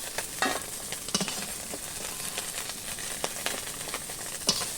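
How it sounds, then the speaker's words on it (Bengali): Khoira fish frying in a pan, a continuous close sizzle of hot oil with scattered sharper pops and crackles. "মাছ ভাজা হয়ে গেছে, মাছটা তুলে নেই।"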